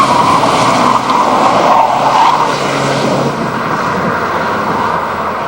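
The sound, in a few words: Dodge Daytona IROC RT driving on a test drive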